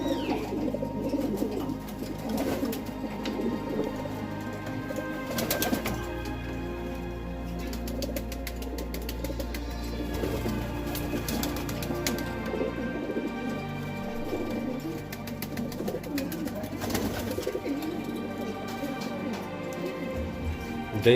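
A pigeon with a bleeding wing injury coos softly now and then, with occasional wing flaps, under steady nearby talk that runs throughout.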